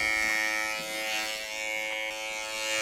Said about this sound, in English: shaver has already shaved one goat without an oiling.